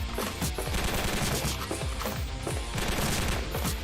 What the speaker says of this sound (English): Oh, okay, it's a machine gun.